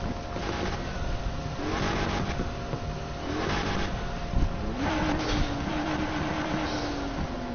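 Car engine revving in the racing game Need for Speed Heat, with a forged engine upgrade: repeated rising and falling rev surges over a steady drone, closing with a sustained whining pull.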